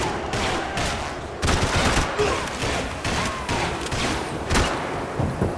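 Heavy gunfire from the video game Max Payne 3 rattles in dense, overlapping bursts and thuds throughout, loud and continuous with sharp individual shots standing out.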